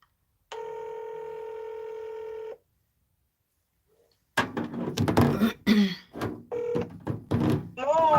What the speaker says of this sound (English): Let me call Auntie Rosemary